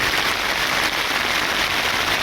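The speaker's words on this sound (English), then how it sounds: "the stars disappear and they fill in with rain" Steady rain pours onto a tarp at a roadside stealth camp overnight, a dense even hiss of drops drumming on the surface without a break.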